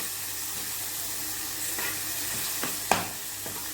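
Ground onion paste stirred into onion chutney in a pan, a faint low sizzle with a few soft scrapes and one sharper clack of the spoon near the end.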